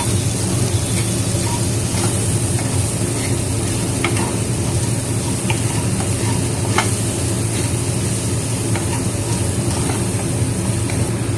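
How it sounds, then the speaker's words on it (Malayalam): Onions and green chillies fry in a pan with a steady, dense sizzle that runs throughout, broken by occasional small crackles and pops, with no voices. "ഇത് കുറച്ച് ഫ്രൈ ചെയ്യാം"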